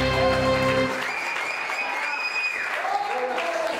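Congregation applauding during a church worship service, a dense wash of clapping that carries through the whole stretch, with sustained musical tones beneath it that fade early on, leaving the clapping fairly steady and moderately loud.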